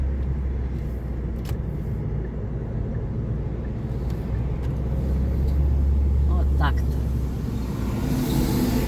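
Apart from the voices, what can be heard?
car driving away on a street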